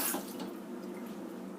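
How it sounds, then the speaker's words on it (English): Vegetables rinsed under a running kitchen tap before juicing, a steady, moderately loud hiss of flowing water with a brief splashier start, no talking. "So I rinse and wash everything to make sure everything's clean."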